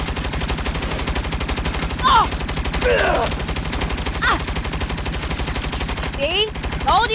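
A turret machine gun in Saints Row (2022) rattles in a rapid, unbroken stream of loud shots, with brief shouted voices cutting in over the fire.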